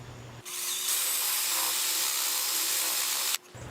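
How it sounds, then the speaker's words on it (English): A power drill bores vertically into the edge of a wooden soldier fly larvae compost bin, one steady loud whirring run of about three seconds with a sharp start and stop, close by and with no talk. "Then I'm going to drill a hole vertically very close to the edge."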